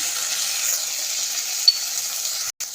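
Spices sautéing in butter with tomato sauce in a pan, giving a steady, close hiss of frying that runs evenly for a few seconds and then stops abruptly, with no talking.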